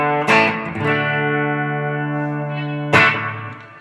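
A B-bender electric guitar plays a country lick in D, with a bright picked attack, a long sustained bent note ringing out, then a fresh picked note near the end.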